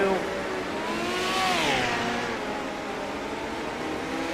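A midget race car engine on a dirt raceway track, rising and falling in pitch as the car slows and struggles to turn, heard at moderate distance under a commentator's voice.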